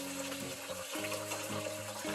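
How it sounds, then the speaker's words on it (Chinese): Glutinous rice being washed in water, a soft continuous sloshing and running-water wash, quiet and close, with no talk. "首先要将糯米洗干净"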